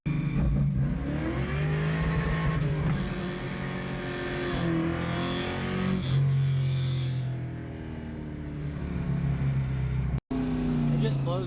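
An LS-swapped Camaro pulls hard in third gear, its engine a steady loud droning roar with rising pitch sweeps across the whole stretch and a brief cut near the end, while someone talks over it inside the car.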